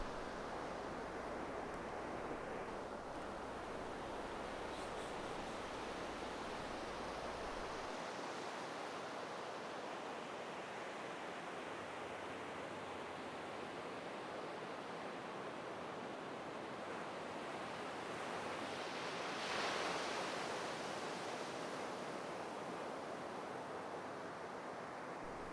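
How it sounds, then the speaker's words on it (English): Muffled, continuous wash of moving water and surf, as if heard from beneath the surface, a steady broadband rush with slow gentle swells and no voices. "The water is still moving, but even the movement of the water is more subdued."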